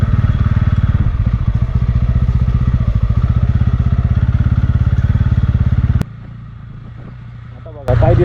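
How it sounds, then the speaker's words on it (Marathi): A motorcycle engine thrums steadily up close on a muddy dirt road in foggy hill country, rough and loud, then drops away briefly before returning with a clatter. "अशा मातीच्या रस्त्यावरून गाडी स्लिप होते."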